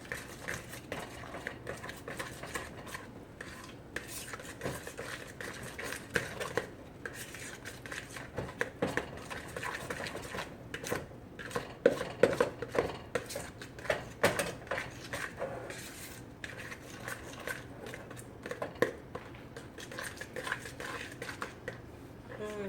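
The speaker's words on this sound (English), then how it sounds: "And then just finish mixing that in." A pinch of salt being mixed into a food dish at an international food presentation: a steady scraping and clinking of a utensil against a bowl in quick irregular strokes, close and moderately loud.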